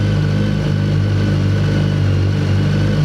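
BMW K1300 GT touring motorcycle engine idling steadily, a loud, close, even mechanical drone with a deep throb and no speech over it.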